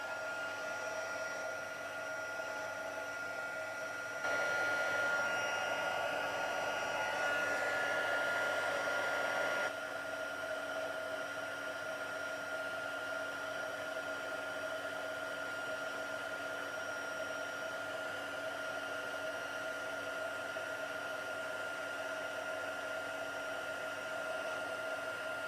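Embossing heat tool melting embossing powder in a papercraft session; a continuous whirring blower that runs alone for the whole stretch, louder for a few seconds in the middle.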